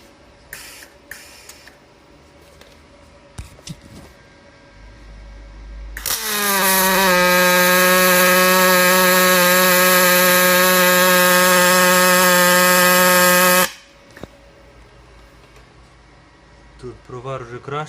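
A Magnum MIG 222 LCD Dual Puls Synergy semi-automatic welder runs at about 120 A, giving a loud, steady, buzzing arc that holds for roughly eight seconds, framed by quieter clicks and handling noises before and after.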